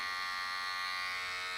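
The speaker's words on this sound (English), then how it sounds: "here it is. Sounds quiet, it feels smooth." A Babyliss Pro FX clone hair trimmer fitted with a Babyliss Pro FX blade runs steadily with a close, even electric buzz and a bright high whine, no pauses and no voices.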